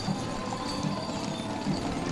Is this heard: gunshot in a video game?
no